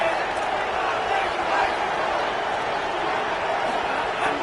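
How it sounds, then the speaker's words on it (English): Loud, steady roar of a college football stadium crowd during a Louisiana-Monroe versus Clemson game, a dense continuous wash of cheering and shouting with no gaps, swelling slightly in places. "this crowd is deafening"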